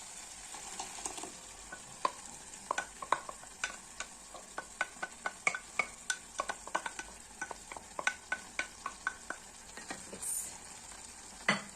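Tomatoes stirred into goat meat stew sizzling in a pot: a steady frying hiss broken by repeated close scraping and clinking strokes of the spoon, with almost no talk.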